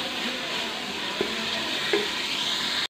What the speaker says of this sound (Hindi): अभी हम इसमें ऐड करेंगे कलेजी और पोर्क।